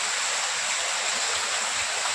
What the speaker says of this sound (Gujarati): અને આમાં તો જોઈને તો નકરું પાણી જ પડે છે